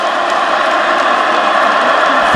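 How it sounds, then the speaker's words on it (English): A football stadium crowd at North Dakota at North Dakota State keeps up a steady, loud roar of cheering and noise, sustained and unbroken throughout. "Despite the score, crowd's still into this thing."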